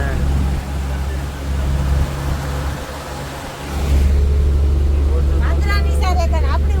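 A packed tour bus rolls through steady rain on the way to Munnar in Kerala, its deep engine rumble and road noise constant throughout, with voices briefly audible near the end.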